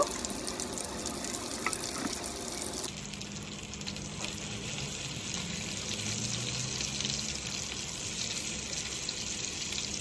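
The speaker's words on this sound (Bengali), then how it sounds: "এখন আমি তেলটা যখন গরম হয়ে আসবে দিয়ে দিব সেই মেখে রাখা মাছগুলো সুন্দর মতো মাছগুলো আমি তেলে" Marinated snakehead fish fry in hot mustard oil with a steady, close sizzle and hiss that changes after the first few seconds and then carries on evenly.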